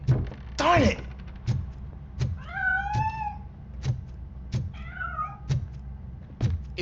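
A cat in the video game RoboCop: Rogue City meows twice in drawn-out, wavering cries between a series of regular soft thumps, with a short vocal sound near the start.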